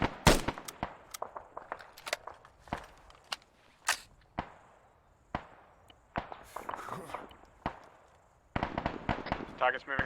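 Sharp gunshots crack out in an irregular string, some single, some in quick bursts, mid-distance with short echoing tails, then a denser cluster near the end; a voice talks briefly between shots.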